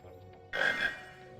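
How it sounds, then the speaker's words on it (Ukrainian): A frog croaks once in the video game Harry Potter and the Chamber of Secrets, a single short, fairly loud call over a quiet game background. "О, жаба."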